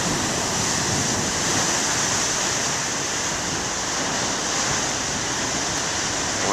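Ocean surf breaks in a continuous broad wash of rushing water, steady and fairly loud with no voices over it.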